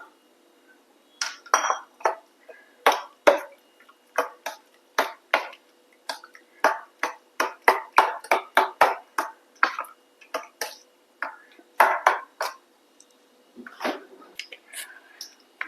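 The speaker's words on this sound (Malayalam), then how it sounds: "ഇനി നമുക്ക് കുറച്ച് ഐസ് ഇട്ട് കൊടുക്കുക." Ice cubes drop into a jug of watermelon juice mixed with lemon juice and cold water, giving a long run of sharp, close clinks and clatters that come in quick irregular bursts with short pauses.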